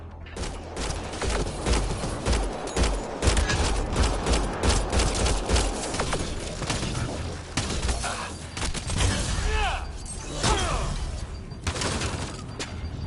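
Gunfire in a firefight in the video game Mass Effect Andromeda: dense, rapid bursts of shots crackle throughout, loud and close, with impacts and a few whooshing effects near the end.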